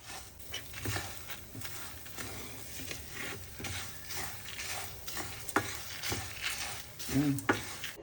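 Idli powder ingredients dry-roasting in a pan, a faint dry crackle with soft scraping stirs and a couple of light pan knocks, close and without talk.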